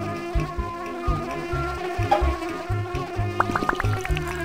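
A cartoon bee buzzes in the Dr Seuss Preschool honey bee game, a close, steady droning hum over a bouncy music loop, with a few rising chirpy tones near the end.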